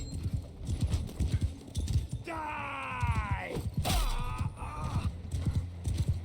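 Hooves pound in a fast, rhythmic gallop in the video game Mount & Blade II: Bannerlord, interrupted by a loud horse whinny midway, with clanking and heavy thuds around it.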